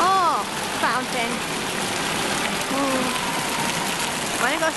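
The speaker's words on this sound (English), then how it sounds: "Oh, fountain." Indoor fountain water splashing and pattering steadily like heavy rain, a constant loud wash of falling water with brief voices and other sounds faintly over it.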